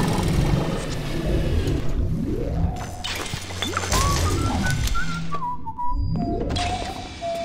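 Someone whistles a short, wavering tune in BioShock, heard among sweeping game noises and background rumble, moderately loud.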